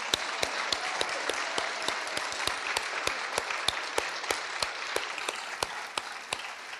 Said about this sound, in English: I think a huge round of applause for all the shortlisters.